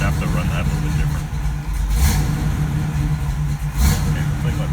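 A 1967 Pontiac Firebird convertible's engine runs steadily at idle, a close, continuous mechanical rumble with a couple of brief rises in the rumble.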